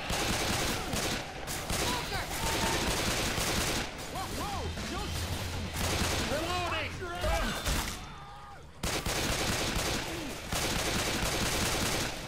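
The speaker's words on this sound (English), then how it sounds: "That zombie's taking a lot of bullets." Rapid, continuous gunfire as survivors shoot zombies in Left 4 Dead 2, with dense bursts of shots running through most of the clip, a brief drop near the end, and voices talking over the shooting.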